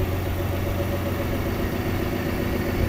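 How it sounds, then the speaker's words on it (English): A canal boat's diesel engine chugging steadily as it passes a moored boat, a low continuous throb close by with no voices over it. "a boat seems to come past"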